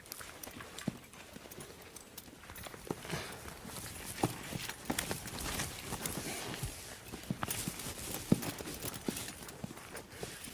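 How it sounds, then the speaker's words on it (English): Several horses walk together in a corral, hooves clip-clopping in a steady, uneven patter at close range, with occasional sharper knocks and a light background hiss. "Brian has corralled several other horses."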